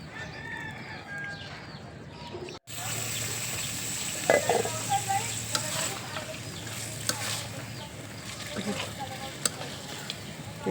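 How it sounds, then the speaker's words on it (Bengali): Spice paste for beef fried with a little water in a pot on a wood-fired stove, giving a steady, moderate sizzle and hiss after a brief cut, with occasional clinks of stirring, faint birdsong and a voice talking over it. "এই তো আমি দিয়ে দিচ্ছি হালকা পানিটা দিয়ে মশলাটা কষিয়ে নিচ্ছি"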